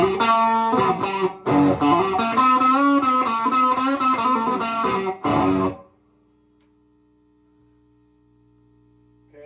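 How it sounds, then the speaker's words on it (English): A faulty TMB amplifier with a malfunctioning reverb plays dense, harmonically rich tones with a washy, distorted tail for about six seconds, briefly gapping twice, then cutting abruptly to near silence with a faint residual hum. "You can hear the reverb, but not like it's supposed to be."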